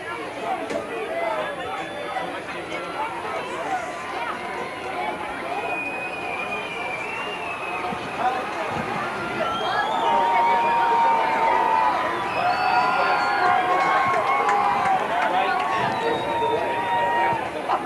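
Outdoor crowd chatter fills the stands at a 1998 high school homecoming football game, a dense babble of many voices with scattered shouts and cheers that swells louder midway through.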